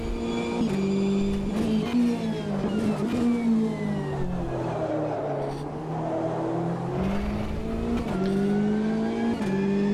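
Race car lapping a circuit in a racing sim, engine droning loud and close with repeated rises and falls in pitch as it shifts and brakes, someone talking briefly over it.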